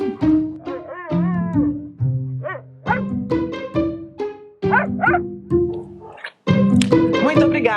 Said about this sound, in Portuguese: Algum dos meus gatos está atormentando os meus cachorros.